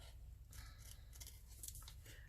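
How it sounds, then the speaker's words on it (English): Scissors trimming around a paper embellishment for a coin holder, a few faint soft snips over a low background hum, close by with no talking. "I have to use my other scissors to get round there"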